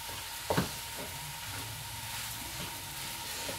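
Nasi goreng made with pre-cooked, cooled broken pandan rice fries in a pan with a soft, steady sizzle and a few faint stirring clinks, heard quietly with no voices.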